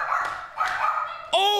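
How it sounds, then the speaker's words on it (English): A pet dog gives short, close barks and yips with a whimpering edge, fairly loud and alone in a brief burst, ending on a sharper higher yelp. "That's the only way I can get her to stop barking at me is by telling her to lay down"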